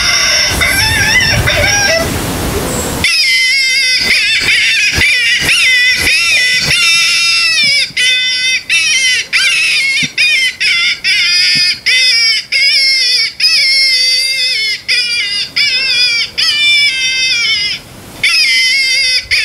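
A phone predator-call app plays a cottontail rabbit distress call loudly and nearby, as a run of shrill, wavering squeals and cries broken by short gaps, after a burst of noise at the start.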